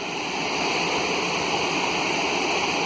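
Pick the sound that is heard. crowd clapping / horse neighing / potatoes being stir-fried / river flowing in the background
river flowing in the background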